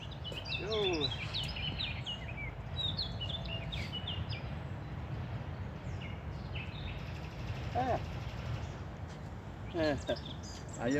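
Pet birds chirp in short, scattered bursts at close range, with a few sharper calls near the middle and the end, under a steady low background rumble while someone talks before feeding them.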